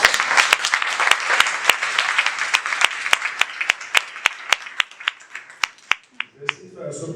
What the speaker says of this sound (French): Maintenant, s'il vous plaît, applaudissez-vous.